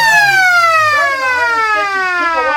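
A loud, sustained siren blares across an Australian rules football ground, a single long tone that slowly falls in pitch, with a commentator's voice faintly underneath.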